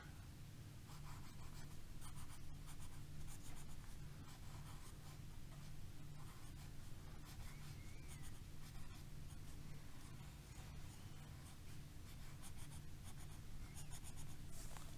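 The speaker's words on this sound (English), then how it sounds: "I've got my blue highlighter. I'm just going to color him blue like water." Steady, close scratching of a blue highlighter coloring in a drawing on paper, continuous strokes with no talking, set against a constant low hum.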